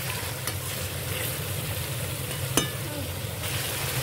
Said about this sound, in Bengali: তো আমি এখন আর কারণ ভাজাতে আমি আলু সেদ্ধ করে ফেলি, মানে ঢেকে ঢেকে ভাজাটা করি